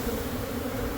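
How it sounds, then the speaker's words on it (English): Bees swarm and buzz around a large hive being removed at a Catholic church, a steady dense drone that stays low and even throughout, with no one talking. "Look at all the bees."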